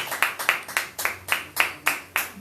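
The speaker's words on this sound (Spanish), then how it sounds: "Dale palmas de alabanza al Señor." A church congregation claps in steady rhythmic praise during a Spanish-language service. Sharp, even hand claps fall about four times per second, full and roomy and moderately loud, with no voices over them.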